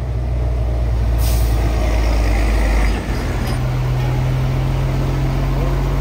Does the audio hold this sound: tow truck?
yes